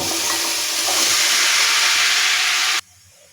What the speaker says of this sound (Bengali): এখন আমি ধুয়ে রাখা মিষ্টি কুমড়াগুলো দিয়ে দেবো